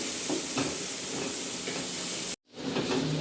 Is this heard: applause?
no